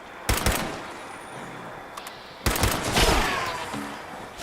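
Berserker Explosive pipe rifle firing in Fallout 76: two separate loud bursts of close gunfire, a short sharp volley followed a couple of seconds later by a longer, heavier salvo with explosive crackle.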